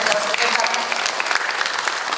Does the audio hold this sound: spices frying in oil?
no